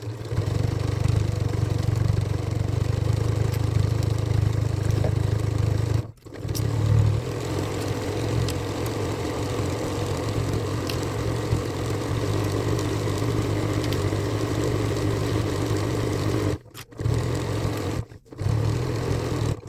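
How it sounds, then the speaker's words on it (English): Sewing machine stitching the seam of a Halloween witch hat, a steady low motor hum running continuously with a few brief stops and restarts, close and alone. "So we're just going to sew all the way around."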